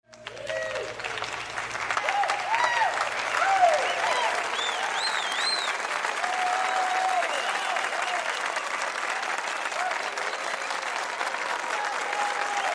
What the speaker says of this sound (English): Please join me to give them the well-deserved applause.